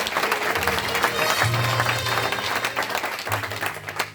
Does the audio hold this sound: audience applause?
yes